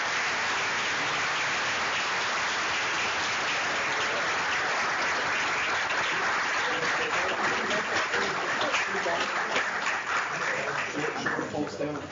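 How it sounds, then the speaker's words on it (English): Sustained audience applause fills the room at a medical department awards day ceremony, a dense, loud wash of clapping lasting the whole stretch and thinning slightly toward the end. "let's give them a round of applause"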